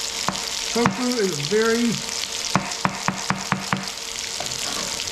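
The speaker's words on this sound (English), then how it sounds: "we're going to throw our green onions in there" Green onions fry with a steady hiss in a hot pan during home cooking, with a few sharp clicks and stirring taps over the sizzle while someone speaks close by.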